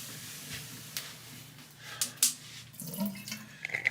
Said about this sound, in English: Which means I gotta dump out the water. A little bit that's left at least.